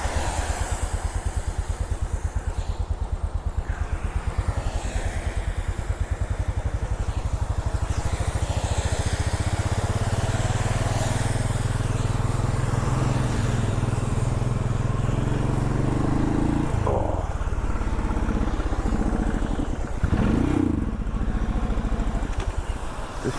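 A Royal Enfield motorcycle rides along wet roads, its engine thrumming low and steady under wind rush, with the rumble deepening and surging in the second half.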